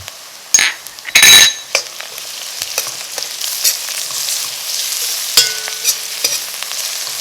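Roughly four tablespoons of minced garlic hitting a hot pan for spinach with pigeon peas and okra, giving a soft steady sizzle broken by a few sharp utensil clinks and scrapes early on.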